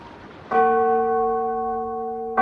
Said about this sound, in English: ringing the bells till they rocked the steeple